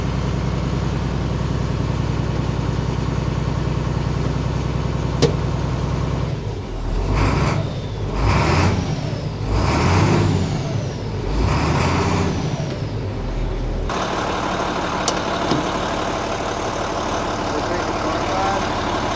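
A heavy International 4700 dump truck's DT466E diesel engine idles with a steady low rumble, briefly interrupted by a few revs in the middle before settling back to idle.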